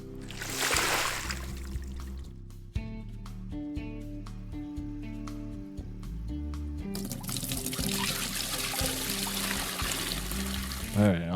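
Water drains out of an aquarium tank in the game Aquarist, a continuous pouring, trickling rush that swells toward the end over a looping musical backing.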